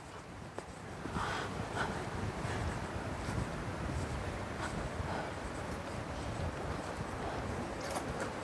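Steady wind at a viewpoint in Kruger National Park, roaring across the microphone as a continuous broad rush with occasional gusty swells, loud and close, with no voices.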